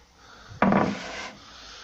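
A single short burst of scraping and rubbing as wood filler is spread across a wardrobe board, close and fairly loud, then fading to quiet.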